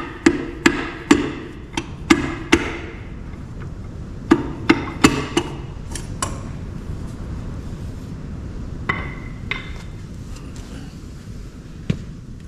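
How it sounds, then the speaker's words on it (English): Sharp, ringing metallic taps from a hammer handle tapping out an engine piston, in quick clusters of strikes, then a pause and a few more scattered knocks, close and loud with a workshop feel. "We're going to use the back end of the hammer handle"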